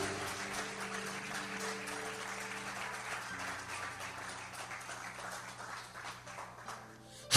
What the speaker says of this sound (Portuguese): Só aqueles que acreditam aplaudam o Senhor por isso